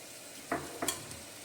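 Ground garlic fries in a pan, with a few soft stirring scrapes and a gentle sizzle, faint and close, no voices.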